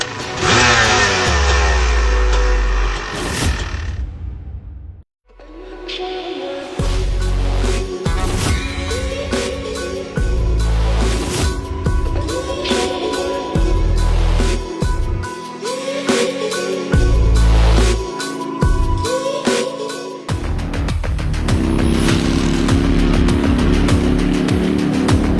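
A motorbike ridden fast with a passenger aboard, its engine revving and roaring loudly and close throughout, with a brief drop near the start before it surges back and keeps accelerating.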